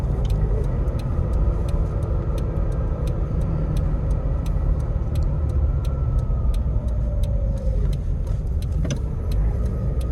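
A 1995 Toyota Hilux Surf drives down a road, its steady engine and tyre rumble continuous and close, with faint regular ticking clicks running over it and no talking.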